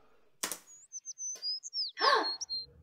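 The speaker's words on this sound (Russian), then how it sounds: "Птички поют." Birds chirp in a short series of high, clear whistled notes, close and moderately loud, broken by a couple of brief rustling, flapping bursts, at the opening of a K-pop music video.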